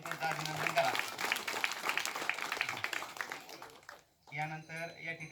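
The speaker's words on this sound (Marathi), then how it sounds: "सगळ्यांसाठी पुन्हा एकदा जोरदार टाळ्या वाजवून त्यांचं अभिनंदन करा" An audience at an Independence Day event applauds to congratulate the speakers, a dense round of clapping that fades out before a voice resumes.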